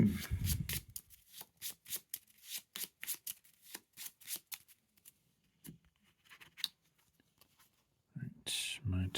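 Playing cards riffled and shuffled in quick, crisp bursts close by at a tabletop card game, with short pauses between bursts and a voice talking briefly at the start and end.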